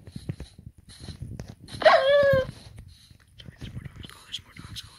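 A Minecraft wolf lets out a short, loud yelping bark cluster in a game, rising above background game noise and soft talk.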